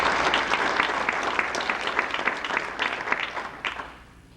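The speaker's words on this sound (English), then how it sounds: "Round of applause." A small audience at a church-hosted panel claps for several seconds, a moderate patter of individual claps that builds briefly and then fades out toward the end.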